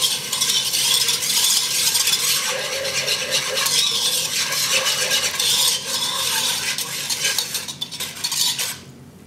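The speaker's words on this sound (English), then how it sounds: "Mix well." A spoon scrapes steadily around a pot, stirring oil and sugar for halva; continuous metallic scraping and clinking with a gritty texture, close and fairly loud throughout, stopping abruptly at the end.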